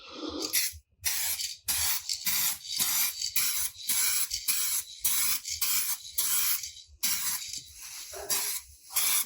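Repeated short bursts of aerosol spray coating misting onto a faded car headlight, roughly a dozen hissing pulses with brief gaps between them, close and fairly loud, with no talking.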